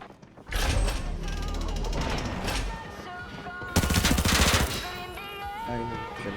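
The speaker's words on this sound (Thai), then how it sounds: "ต่อจากนี้ไปก็จะเป็นไฮไลท์การยิงของปืน H4 สั้นนั่นเองนะครับ" Rapid automatic fire from the H4 gun in the Arena Breakout shooter game, a loud, dense burst of repeated shots with mechanical clatter, a second heavier volley after a brief lull, no voices.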